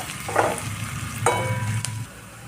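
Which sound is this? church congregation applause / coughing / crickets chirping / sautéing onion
sautéing onion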